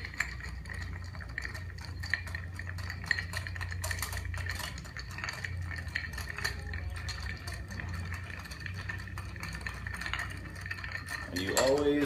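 A cocktail, a banana bread old fashioned, stirred over dense cold draft ice in a mixing glass, giving a long run of quick light clinks and rattles of ice against glass and spoon, steady and close.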